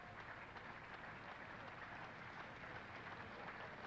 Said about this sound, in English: Round of applause around the ground for the feat